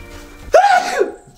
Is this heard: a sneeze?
yes